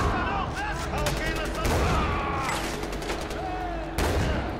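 Rapid bursts of gunfire in the video game Far Cry 4 on Xbox One S crackle over a steady bed of game noise, with some speech-like sounds mixed in.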